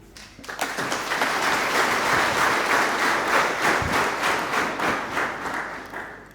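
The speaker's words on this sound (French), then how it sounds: "Vous pouvez applaudir." Audience applause at a Francophonie Day celebration at TTC Mbuga in Rwanda, a sustained wash of many hands clapping that swells quickly after a quiet start and holds steady and fairly loud for several seconds.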